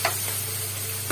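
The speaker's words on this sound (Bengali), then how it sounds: "পেঁয়াজটা ভাজা হয়ে গেছে" Onions frying in a pan for egg chicken chow, a continuous close hiss of sizzling oil with faint stirring scrapes at the start and end, under a steady low electrical hum, no talking.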